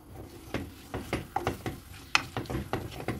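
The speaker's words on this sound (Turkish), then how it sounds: "Kavuruyoruz." Chopped onions sautéed in a pot while making içli köfte in a home kitchen, giving a soft, steady stirring and sizzling with repeated scraping clatters of a utensil against the pot, fairly quiet and without talk.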